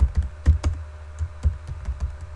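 Quick irregular clicks of keys on a computer keyboard during someone's typing, several distinct taps and small bursts over a couple of seconds, close and clear with no talk.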